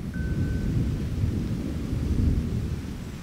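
Deep, continuous thunder rumbles loudly through the whole stretch, a heavy low roll with a faint hint of rain and no voices over it.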